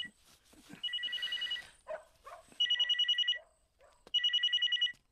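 An old-style telephone bell rings in three trilling bursts in a Bengali film scene, loud and close. Between the rings a dog barks and whimpers.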